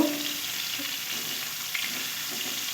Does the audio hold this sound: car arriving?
no